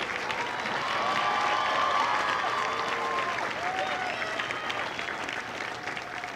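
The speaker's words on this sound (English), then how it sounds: "Ladies and gentlemen, please join me in a round of applause for the company staff of Company C." A large crowd applauds at a Marine Corps recruit graduation ceremony in San Diego, a sustained far-off wash of clapping with scattered cheers and whistles over it.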